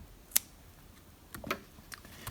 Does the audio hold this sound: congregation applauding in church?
no